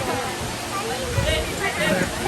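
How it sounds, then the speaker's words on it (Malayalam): A steady roar of rushing falling water at a waterfall in Kuttalam, Tamil Nadu, broad and continuous, with voices murmuring faintly underneath. "വെള്ളച്ചാട്ടം"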